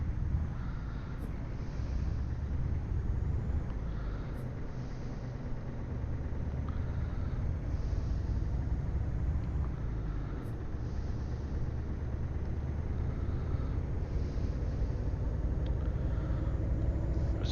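Truck engine in Euro Truck Simulator, a steady low rumble and drone that holds constant throughout, with a little road and wind noise over it.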